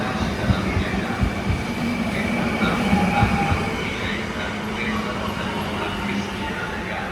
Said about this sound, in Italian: proveniente da Venezia Santa Lucia e diretto a Milano Centrale, delle ore 8:39, è in arrivo al binario 6